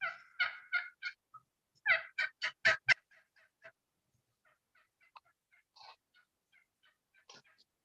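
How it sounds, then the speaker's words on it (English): A recording of a wild turkey hen plays a run of loud, evenly spaced yelps in two quick series. Quieter, scattered calls follow and fade out near the end. "So here's the actual wild turkey hen."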